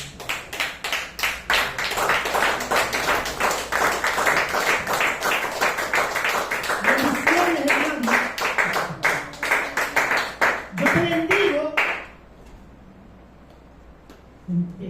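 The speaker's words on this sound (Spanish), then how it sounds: "Den aplausos al Señor" A church congregation applauds with steady rhythmic clapping for about twelve seconds, fairly loud and close, then stops abruptly into quiet.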